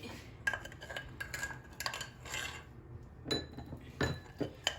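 A small spoon clinks lightly against a dish while scooping hot caramel for a flan tart, a few faint bright taps and scrapes spread over several seconds with no talking.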